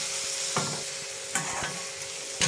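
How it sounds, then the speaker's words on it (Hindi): Veg keema with garam masala being stirred in a frying pan, a steady low sizzle broken by a few distinct scraping stirs of the spoon, close and alone with no talk. "गरम मसाला डाला, अच्छे से मिक्स करते हैं।"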